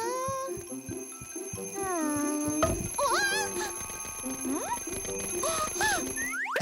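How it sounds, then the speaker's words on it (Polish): An alarm clock rings in a children's cartoon, a rapid bright ringing with bursts of cartoon sound effects and rising whistle-like tones, set against a music bed. "Babeczka musi stawiać budzik daleko od łóżka."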